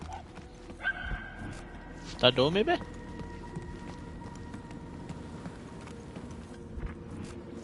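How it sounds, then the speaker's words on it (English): A dog barks somewhere in a video game, with a short cluster of yelping barks in the middle of the clip that sounds distant and muffled, while people talk over a low background hum. "The barking is getting fainter."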